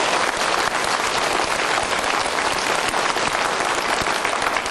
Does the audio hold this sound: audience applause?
yes